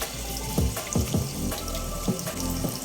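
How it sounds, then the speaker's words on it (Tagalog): Tap water runs steadily over the top of a can to cool it, a continuous near splashing stream with a few brief metallic knocks and clinks as the can shifts under the faucet. "pwede to patuluan ng tubig yung top niya"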